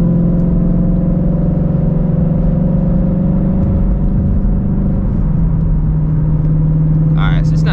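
A Shelby GT350 drives along a road, its engine a steady loud drone throughout, with a voice speaking over it.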